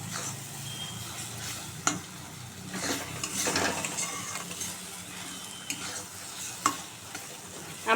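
Ridge gourd (nenua) fries with onion in a pan, a steady sizzle under repeated scraping stirs of a spatula and occasional clinks on the pan.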